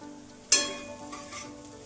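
Spices sautéing in a hot pan for tomato chutney, a sharp sizzle bursting in loudly then settling into a softer steady crackle, close and with no talk.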